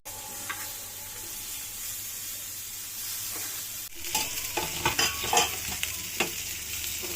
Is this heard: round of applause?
no